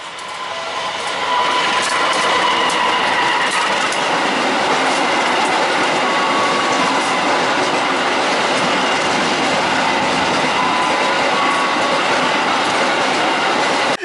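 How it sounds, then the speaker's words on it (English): A freight train rolls past a station on the line near Bandung, a loud, steady roar of wheels and wagons close by, building in the first seconds and then sustained throughout without speech. "So according earlier, the train will pass is Argo Parahyangan, but it is a freight train."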